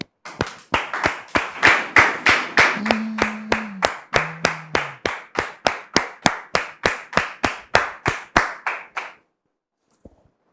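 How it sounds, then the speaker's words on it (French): Rhythmic unison clapping from an audience greeting a guest, a steady beat of sharp claps that builds, holds about nine seconds, then stops abruptly, with a couple of brief tones partway through. "On le reçoit maintenant sous vos applaudissements."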